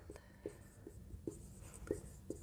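Chalk or marker writes on a board during an accounts lesson, a quiet run of short taps and scratchy strokes coming every half second or so, close but soft, with no voice over it.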